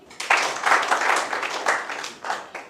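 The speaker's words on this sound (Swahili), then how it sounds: "Pigeni makofi" Students in a classroom burst into a short round of clapping, many hands close together at a fairly even, lively rhythm that swells and then tapers off.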